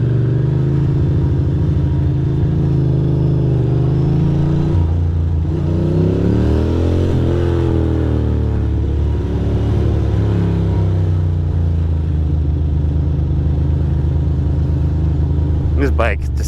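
A Ducati Monster 620 motorcycle engine runs loud and close, revving up and down in rising and falling sweeps over a steady throbbing idle.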